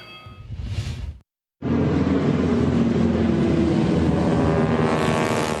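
A 1,400 horsepower radial aircraft engine cranks briefly, falls silent for a moment, then roars to life and holds a loud, rumbling, steady drone.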